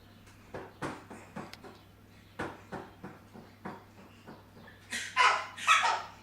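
Lola the dog barks and yips in a run of sharp, irregular barks, quite close, over a steady low hum, ending in a pair of louder, higher yelps.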